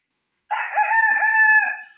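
A man imitates a rooster's crow with his voice, a single clear, sustained cock-a-doodle-doo lasting about a second and a half, close and alone.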